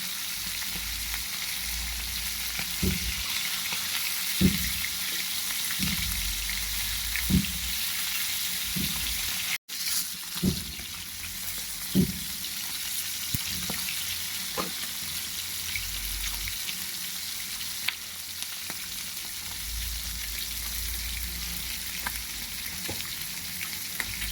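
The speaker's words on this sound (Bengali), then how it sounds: "এই তো আমাদের মাছ ভাজা শেষ হয়ে গিয়েছে" Sea fish frying in hot oil, a steady broadband sizzle with occasional soft clinks and stirring knocks from a utensil, close and continuous without any talking.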